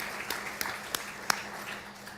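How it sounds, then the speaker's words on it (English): A congregation at a service gives a modest round of applause for the Green team, soft scattered clapping with a few sharper individual claps standing out. "Give them a round of applause"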